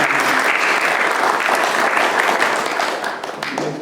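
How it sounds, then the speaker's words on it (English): Audience applause after a talk on Indian cultural history, a dense, loud, sustained wash of many hands clapping that tapers slightly toward the end. "would you please applaud?"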